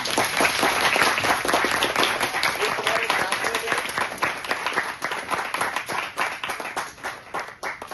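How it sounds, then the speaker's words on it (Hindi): Students at a medical sciences institute induction program in Udaipur clap loudly and rapidly, a dense burst of individual hand claps that slowly thins out, with a voice speaking briefly over it. "मैं तुम लोगों से चाहूंगा तुम जोरदार इन सब के लिए तालियां बजाओगे।"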